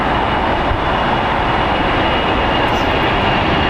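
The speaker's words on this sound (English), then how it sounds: "Departing Delta Airlines Flight 542 going to Washington, D.C. It is a Boeing 757-200, 23 years old." A 23-year-old Delta Air Lines Boeing 757-200 departing LAX for Washington, D.C., its dense, loud engine roar filling the air with an unbroken wash of sound.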